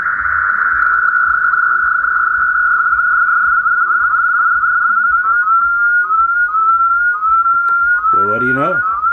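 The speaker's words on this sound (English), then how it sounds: "you can hear the clarifier is locked, and we should be able to hear that 0 beat" Steady heterodyne tone from a 1977–79 Navaho TRC-457 radio with the clarifier locked, a sustained whistle-like pitch held evenly and loud, shifting slightly near the end with a brief warbling sweep.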